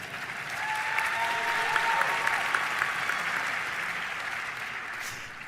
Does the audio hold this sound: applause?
yes